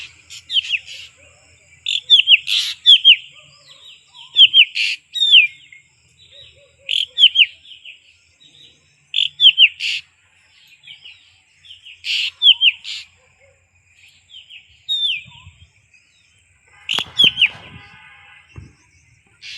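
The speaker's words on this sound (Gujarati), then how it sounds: "જોઈ લે મેરા પક્ષી કેવું મસ્ત બોલે છે।" A pet bird sings in repeated bright chirping phrases, sharp tweets arriving in bursts every second or so, close and clear, with faint rustling and light rain-like patter toward the end.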